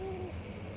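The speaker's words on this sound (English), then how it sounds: "Owls outside. I just heard an owl." An owl hoots outside in the horror video game Amnesia: The Dark Descent, a single faint, low tone that fades within a fraction of a second over a quiet ambient drone.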